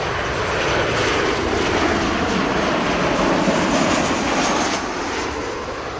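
A JetBlue airplane on approach to runway 7 at Montego Bay in Jamaica, its engines giving a loud, steady broadband roar that holds for several seconds and then eases slightly.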